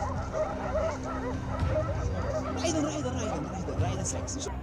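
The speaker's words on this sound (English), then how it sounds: "Suddenly, the dogs chase a massive hog out of the bushes," Hunting dogs bark, yip and whimper in the forest while chasing a massive wild boar out of the bushes, a busy overlapping chorus of close barks with rustling and scattered noise throughout.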